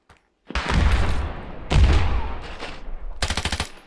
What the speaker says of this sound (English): Nice grenades, pretty good.